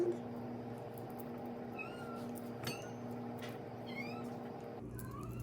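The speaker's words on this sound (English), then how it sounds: "I can hear my cat meowing right now." Faint meows from a pet cat sound off in the background of a kitchen as garlic is smashed and peeled, a few short upward-gliding calls scattered over steady low room hum.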